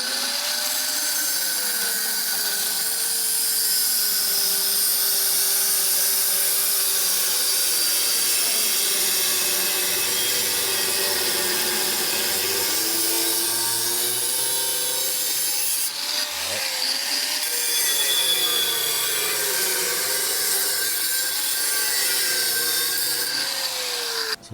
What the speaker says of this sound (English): I'm cutting through the angle as well on the bottom.